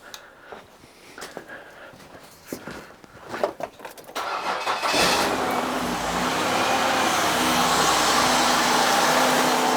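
Car engine started with a portable jump starter pack: clicks and handling noises, a brief cranking, then the engine catches at about four seconds and settles into a steady, loud, close idle.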